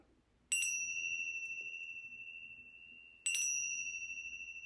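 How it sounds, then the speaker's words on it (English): Chimes used to close yoga classes are struck twice, each a bright metallic ring with a sharp attack and a long, slowly fading sustain, heard alone in a quiet room. "I'm just going to ring my chimes."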